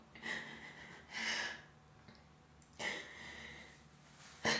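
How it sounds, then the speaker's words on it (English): A woman yawns a few times in a quiet room, each yawn a drawn-out breathy exhale, with soft breathing in between and a short sharp breath near the end. "I'm sorry for yawning"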